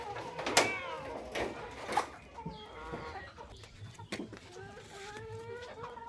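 Several chickens cluck and squawk close by, with sharp bursts early on and softer repeated clucking continuing throughout.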